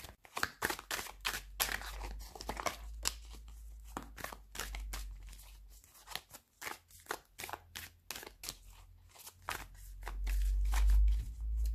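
Oracle Saphir oracle cards shuffled by hand, a quick series of papery flicks and riffles close up, irregular bursts with brief pauses, ending in a low muffled rumble.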